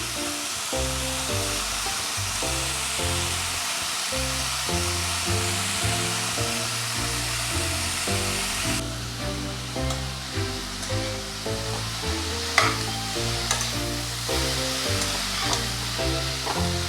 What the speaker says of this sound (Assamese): দুই মিনিটমান ভাজি ল'ম মই।